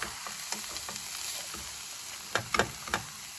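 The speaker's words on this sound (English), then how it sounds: "Okay, so I have the turkey breast and I'm browning it right now." Ground turkey breast, added semi-frozen, browning in a pan with a steady close sizzle and frying crackle, broken by a few sharp spatula scrapes and taps toward the end.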